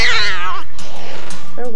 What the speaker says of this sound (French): Comme un chat qui feule et qui crie.